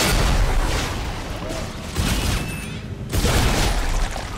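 Gunfire in the sci-fi horror game Dead Space 2: dense, loud bursts of shots and booms crowd together in several clusters, with brief lulls between them.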